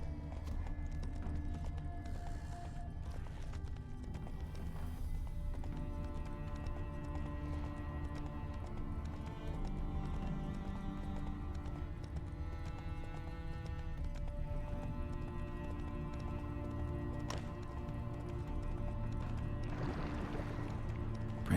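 A horse's hooves clip-clop steadily in The Witcher 3 open-world video game, mixed with ambient game sound and music, with no voices over the rhythmic trotting.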